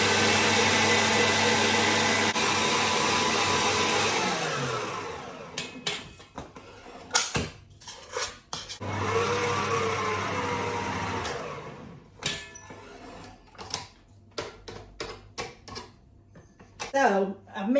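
Cake ingredients being whipped together with an electric mixer in a home kitchen, a steady loud whir that slows and stops, then starts again in a second burst, with clattering bowl and utensil knocks between.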